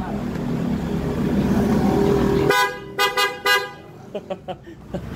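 Rough Suzuki Sniper 155 motorcycle engine noise cuts off, then its newly rewired horn honks several short blasts in an uneven sequence, loud and close, followed by quieter beeps.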